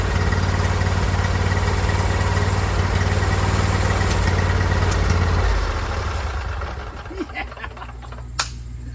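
A Briggs V-twin carburetor engine on a Toro zero-turn mower idles with a steady, loud, rumbling drone that lowers and fades toward the end, leaving quieter background clatter.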